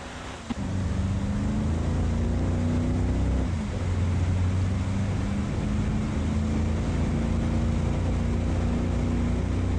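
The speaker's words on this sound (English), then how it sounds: "the engine noise that they have, because right now I think it's like a German diesel or something like that" Steady diesel engine drone from a storm chaser vehicle in Tornado: Research and Rescue, a constant low rumble with a slight pitch shift partway through, close and continuous.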